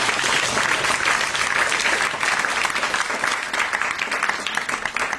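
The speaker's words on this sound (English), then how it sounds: "Let's give one more round of applause for both teams in the final." Sustained audience applause after the final round of a high school debate, a dense steady clapping wash from a large crowd that holds strong throughout with a slight easing near the end.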